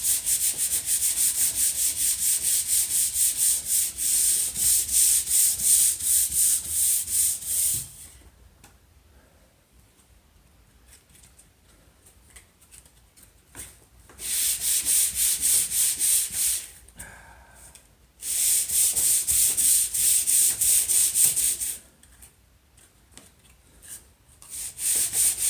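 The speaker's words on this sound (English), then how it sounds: "It sanded the first panel lovely." A wooden kitchen table panel being sanded, with steady, loud bursts of abrasive rubbing that run for several seconds, stop for quiet gaps, then resume in two more long passes.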